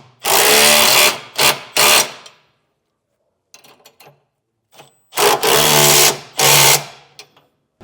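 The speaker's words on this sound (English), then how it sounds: "we'll tighten down our 4 bolts holding our center section to our cross brackets" A power tool drives the bolts on a sliding 5th wheel hitch being installed in a 2023 Ford pickup. It sounds as loud, close bursts of whirring, first a quick run of short pulses, then a quiet gap, then two longer bursts.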